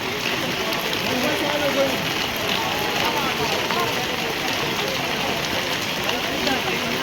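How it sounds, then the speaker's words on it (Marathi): Heavy rain pours steadily over a Konkan village during a traditional Tulsi wedding ceremony, a dense continuous hiss and patter filling the scene without break. "भरपूर पाऊस पडत आहे गावात"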